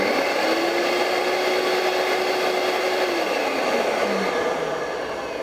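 A Festool vacuum cleaner runs continuously after repair, a steady loud broadband motor roar with a whining tone that holds level, then eases slightly near the end; no talking.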